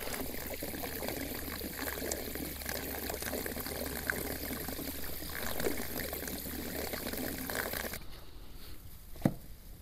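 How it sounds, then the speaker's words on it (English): Water squirted from a squeeze bottle to rinse gold concentrate separated from black beach sand, a steady close trickle and splash that runs for about eight seconds and then stops, leaving near quiet with one brief knock. "I'll squirt those down and wash that out with a little bit of water"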